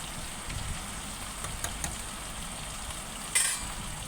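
Chicken pieces frying in oil in a Telangana-style home kitchen, a soft steady sizzle with a few faint clinks of a stirring utensil.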